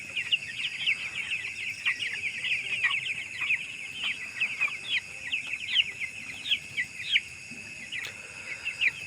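Twelve-day-old chickens on a poultry farm call constantly, a dense overlapping chorus of high chirps and clucks that carries on steadily throughout with no talking.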